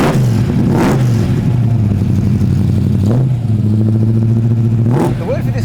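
Supercharged 1965 Ford Mustang Fastback with automatic gearbox revving up, three rising surges of engine noise over a steady mechanical drone, with a voice talking over it.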